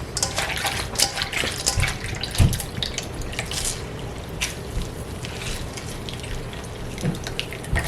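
Tap water runs steadily over bitter melon (caraille) being washed by hand in a sink, with splashing, squishing and dripping throughout, fairly close and alone without talk.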